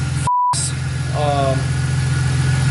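A BMW E46 fitted with a new intake manifold and tune idles while warming up, a steady low engine hum that runs throughout, broken near the start by a brief electronic beep.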